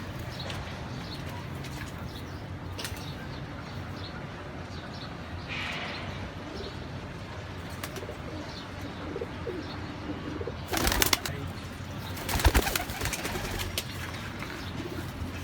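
Baby pigeons coo softly in a sale pen, with low cooing and light chirps over a faint background hum and a couple of brief rustling knocks near the end.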